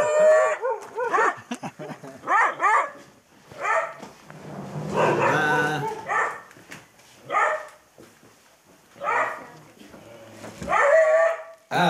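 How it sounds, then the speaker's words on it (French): Hunting dogs bark and bay loudly and almost continuously in a rural setting, with overlapping yelps and howls rising and falling. Someone talks briefly among them. "Quand ça commence comme ça, après tu peux plus les arrêter les chiens."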